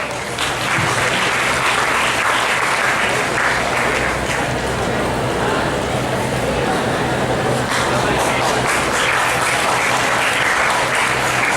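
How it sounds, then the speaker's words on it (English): Audience at a corporate HR panel discussion applauding a guest, with sustained, loud clapping from a full room that carries on steadily and evenly for several seconds. "Please give them a huge round of applause."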